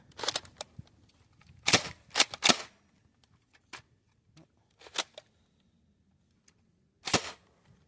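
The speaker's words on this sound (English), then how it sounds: "I started having some feeding issues there, which led to a couple of dry fires" A Dart Zone Max Nitroshot+ Stryker 2.0 foam dart blaster fires with feeding issues and dry fires: sharp, irregular snapping bursts, some in quick clusters and others isolated, with quiet gaps between them and no speech.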